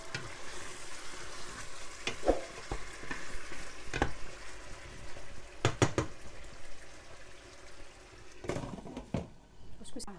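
Onions fry in a pan for Somali-style cooked lamb, giving a steady sizzle with occasional scrapes and stirring knocks, while a voice talks quietly in the background.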